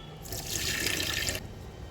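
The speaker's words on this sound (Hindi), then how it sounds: "हम दाल का पानी इसमें डालेंगे" Lentil water pours through a steel strainer into a kitchen sink, a steady rushing splash of about a second that starts abruptly and stops just as suddenly, close by and with no talking.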